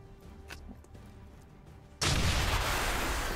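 A single loud weapon blast from the Singularity: Mechatro game rings out partway through after a quiet stretch, leaving a sustained roaring rumble that slowly fades.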